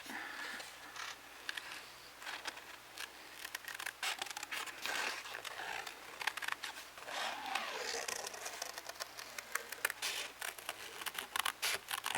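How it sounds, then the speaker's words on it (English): Scissors snip around a holiday card in a steady run of small crisp cuts and rustles, close and fairly quiet. "Just gonna cut around this a little bit."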